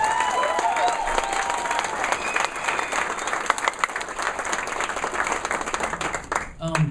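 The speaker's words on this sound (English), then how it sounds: "we should give Kevin a round of applause for putting all this together" An audience applauds at a capstone awards presentation, a dense, continuous patter of clapping from many hands that holds steady for several seconds before tapering at the end.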